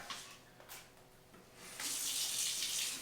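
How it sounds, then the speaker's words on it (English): Thin pork chops are rinsed under a kitchen tap; after a few soft handling noises, the water starts running with a close, steady splashing hiss for the last second or so. "Now with these, I'm just going to rinse and pat dry."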